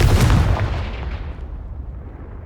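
A Confringo spell blast from Hogwarts Legacy booms loudly at the start, a single heavy detonation that rolls out and fades over a couple of seconds with a rumbling tail.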